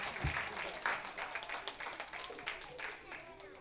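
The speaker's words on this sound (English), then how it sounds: "Big round of applause for all of our volunteer readers." Light applause from a small crowd at a public library reading event, quiet and somewhat distant, a few claps standing out over a soft murmur.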